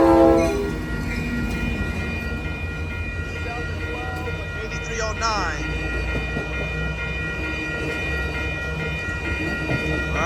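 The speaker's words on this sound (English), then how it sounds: "Alright, there go that train off to San Jose." An Amtrak Capitol Corridor passenger train led by a 2012 F59PHI locomotive rolls past a crossing on 98th Avenue in Oakland, California, loud and close, its horn blaring near the start before steady rumbling and clatter continue, with someone speaking briefly over it.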